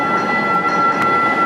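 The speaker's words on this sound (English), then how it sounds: "Metro Light Rail" A Metro Light Rail train in Houston rolls by loud and close, a steady rumbling roar with a sustained high whine running through it.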